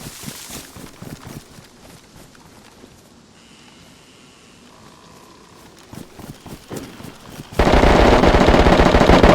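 Gunfire in DayZ during a team PvP fight: scattered shots and rattling bursts build up, then a loud continuous stretch of rapid automatic fire dominates the last couple of seconds.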